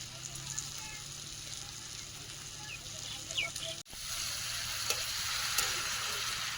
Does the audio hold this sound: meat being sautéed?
yes